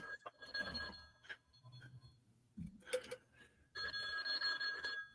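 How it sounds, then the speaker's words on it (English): A phone ringing in a room, with bright repeated electronic ring bursts separated by pauses and low background sounds between them. "Phone's ringing"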